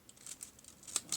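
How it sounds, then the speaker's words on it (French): Scissors snipping through a folded paper bag at the middle, a few short crisp cuts with faint crinkling, close and quiet, no voices. "vous prenez une paire de ciseaux"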